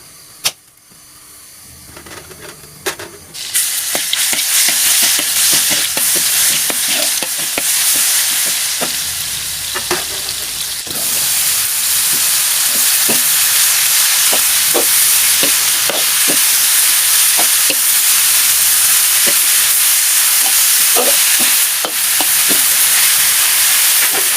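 Loud, steady sizzling of oil frying in a pan, crackling and spitting continuously, with occasional clatters of a utensil against the pan, while stir-frying termite mushrooms with black pepper and garlic.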